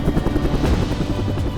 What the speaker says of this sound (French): un hélicoptère parvient à s'approcher à une 40aine de mètres des alpinistes.